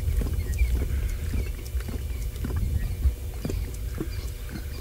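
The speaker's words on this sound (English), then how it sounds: "he's going to drink that entire puddle" A big male lion drinks from a puddle outdoors. The rhythmic lapping and slurping comes close and fairly loud, in repeated quick bursts.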